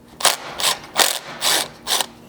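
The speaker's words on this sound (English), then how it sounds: "we can grab our 10mm socket once again and remove this clip" A 10mm socket ratchet clicks in five short, even bursts while removing a clip from the factory hitch receiver of a second-generation Sequoia during a rear bumper install, close and clear with no talk.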